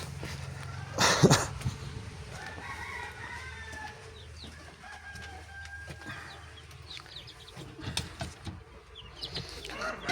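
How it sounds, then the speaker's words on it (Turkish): Chickens cluck and chirp in a busy farmyard, with a loud burst of bird noise early on and scattered faint peeps throughout. "Civcivlerimize bakalım."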